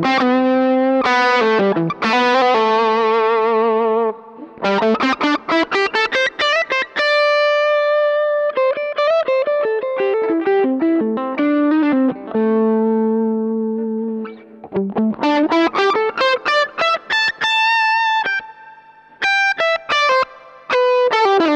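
Electric guitar played through a Tech 21 SansAmp Character Plus Mop Top Liverpool pedal rings out in a bright, glassy tone, with strummed chords and picked melodic runs sliding between notes, loud and close with no talking.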